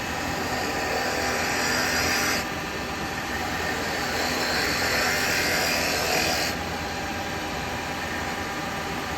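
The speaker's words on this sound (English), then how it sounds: "I'm going to go with the spindle gouge first off. I'm just going to get a bit of a hole." A spindle gouge cuts into wood spinning on a lathe, hollowing a tea light holder, with a continuous scraping hiss over the motor's steady hum that swells and fades as the tool is pushed in.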